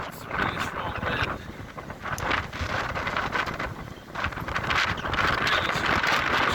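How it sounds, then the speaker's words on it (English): Strong gusting wind in a severe thunderstorm, sweeping through a cemetery: a loud, continuous roar that buffets the microphone and surges in waves, with brief dips between gusts. "That is some strong wind."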